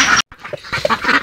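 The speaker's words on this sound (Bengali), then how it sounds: "দেখেন এই হাঁসগুলো আমার বিলে যাইতেছে।" Ducks heading out to a wetland give a few close, loud quacks in quick succession, broken by a brief silence near the start.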